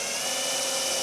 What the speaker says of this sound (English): So I'm just drilling out the holes for the hinges and these mounts here.